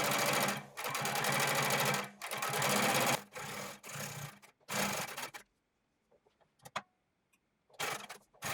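A sewing machine top-stitches both edges of a jeans waistband close to the fold, running in loud steady bursts of about a second each with brief pauses between them, then going mostly quiet apart from a few faint ticks and a final short run.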